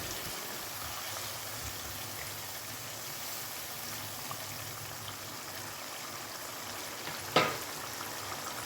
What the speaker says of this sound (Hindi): दही को अच्छे से मिक्स करेंगे।